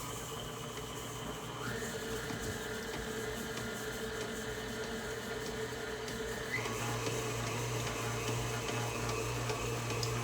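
An electric mixer creams batter for pumpkin whoopie pies made with low-carb flour, a steady whirring hum with slight pitch shifts as the speed changes, fairly quiet and with no talk.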